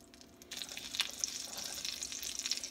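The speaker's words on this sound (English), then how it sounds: "And then we'll go ahead and put it in our frying pan" Chicken pieces for a casserole sizzle in a frying pan, a steady close crackling hiss that starts abruptly about half a second in and continues evenly with no voices.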